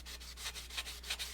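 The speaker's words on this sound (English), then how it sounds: "So I take and just sand the area that I need sanded," A painted tumbler is hand-sanded in slow back-and-forth strokes, a soft, close, rhythmic rasp repeating about five times with no talking.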